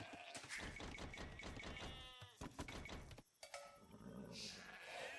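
Sheep bleat repeatedly in Age of Empires 2, short wavering cries set among busy game sounds and clicks, with a brief dip in the middle.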